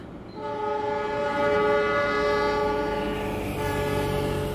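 A passenger train's horn blares in a long, steady tone as the Lodaya train rumbles past close by, loud and sustained throughout.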